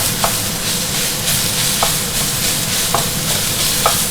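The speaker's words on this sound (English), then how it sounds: "This is being cooked. Now this is all being done at very high flame." Onions for Hakka pasta fry over a very high flame, a loud continuous sizzle with occasional sharp stirring scrapes and ticks, no voices.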